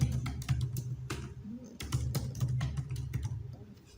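Fast, uneven clicking of a computer keyboard while typing text in MS Word, close and clear, with a low background hum.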